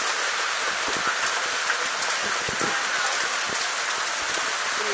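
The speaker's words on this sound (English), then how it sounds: "It's raining really, really hard." Heavy rain pours down at a night wet market in Thailand, a dense, steady hiss of drops striking surfaces nearby, with scattered louder splashes and no voices.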